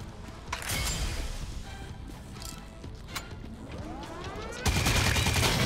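Gunfire in the Drawn To Death video game: a string of sharp, loud shots and rapid bursts with metallic clatter, growing louder and denser at the end.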